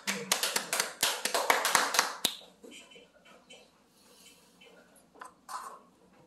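Thank-you applause after a church talk, a burst of sharp hand claps that is dense and loud for about two seconds, then thins to a few scattered claps and soft rustling.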